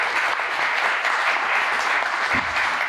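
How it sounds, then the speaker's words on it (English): An audience gives a round of applause for Planned Parenthood at a public health gathering, a loud, even wash of many hands clapping that holds steady for a few seconds without speech. "big round of applause for Planned Parenthood,"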